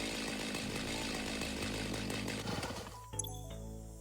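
A chainsaw in the video game Satisfactory runs with a steady, loud buzzing drone, revving and cutting before dropping off near the end into a brief clatter and a lower hum.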